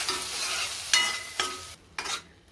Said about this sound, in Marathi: आता हा मसाला चांगला तेल सुटत तोपर्यंत आपल्याला परतून घ्यायचा आहे